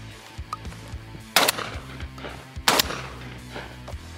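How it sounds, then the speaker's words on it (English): Two loud 12-gauge shotgun blasts from a semi-automatic shotgun held upside down overhead, sharp close reports about a second apart with brief mechanical clatter between. "I'm gonna try to shoot with the gun upside down over my head and see if it'll recoil."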